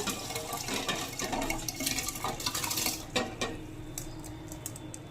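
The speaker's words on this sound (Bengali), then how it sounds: "এবার এই চাল ডালগুলোকে আমি এই হাঁড়িটার মধ্যে দিয়ে দেব" A wet, grainy pour and rattle as dry rice and lentils tumble into a metal pot, followed by quieter clinks and scraping.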